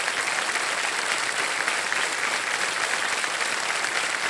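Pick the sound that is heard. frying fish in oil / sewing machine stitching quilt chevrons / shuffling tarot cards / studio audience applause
studio audience applause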